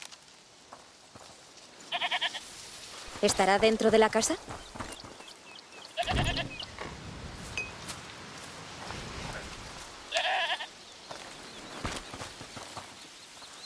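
Goat bleating in the video game A Plague Tale: Requiem, a few short bleats rising over ambient game sound while people talk.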